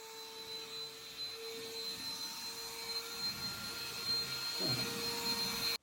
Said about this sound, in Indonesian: sekarang kita tes ya vakum yang besar ini. Aku udah tumpahin tepung, terus kita vakum aja.